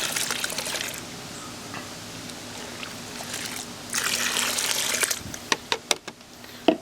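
Water pours and trickles into a container, with a soft continuous stream that swells louder toward the end, broken by a few splashy drips. No one speaks.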